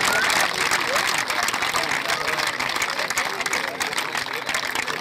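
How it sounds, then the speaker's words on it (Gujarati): Audience applause at a Hinsu family gathering, a steady dense wash of clapping from a crowd that stays loud and even throughout, with faint babble mixed in. "આપણે જોરદાર તાળીઓથી વધાવીશું"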